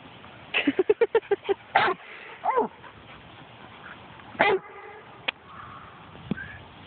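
A frightened dog at a baseball field gives a quick run of sharp yips and barks, then whimpers and a few more scattered barks, close to the recorder, with a little human voice mixed in.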